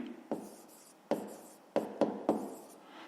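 A fraction written by hand on paper, quiet pen strokes with five or six sharp taps and scratchy drags in an irregular rhythm, close and alone.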